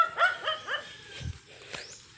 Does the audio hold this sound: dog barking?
yes